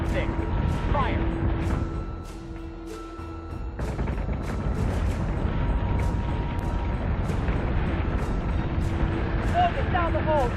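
Battlestar Galactica warship guns fire in repeated sharp booms, a rhythmic series of heavy cannon shots over a rumbling battle with voices talking throughout.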